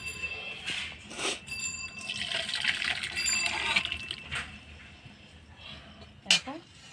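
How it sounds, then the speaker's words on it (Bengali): Chicken soup is poured from a pot into a bowl, a close liquid splashing and trickling with a clink of metal or ceramic, and a voice speaks over part of it. "এবার স্যুপটা আমি এই পাত্রে ঢেলে রাখবো।"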